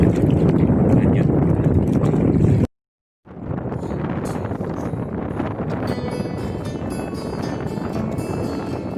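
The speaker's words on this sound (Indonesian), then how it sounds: "Angin kencang sekali." Strong wind at a harbour roars into the microphone as a loud, steady buffeting rush, broken by one brief dropout of silence before it resumes just as hard.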